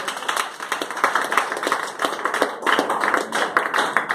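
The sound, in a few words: congregation applause in a church service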